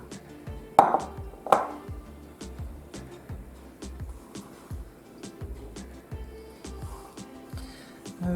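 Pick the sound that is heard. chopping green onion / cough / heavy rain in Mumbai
chopping green onion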